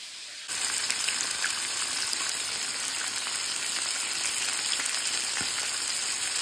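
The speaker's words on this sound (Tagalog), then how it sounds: "Yung ating isda, piniprito na natin siya." Fish frying in a pan for a fish curry, a steady dense sizzle that starts abruptly after a brief quiet moment and carries on evenly, close and fairly loud, with faint scattered pops.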